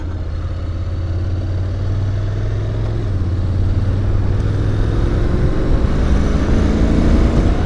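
A 2021 Honda NC750X DCT motorcycle accelerates steadily off a freeway exit, its engine drone loud and continuous with rising pitch, wind rush filling the background.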